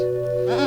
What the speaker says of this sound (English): I know I rag on goats, and here we are going home with one.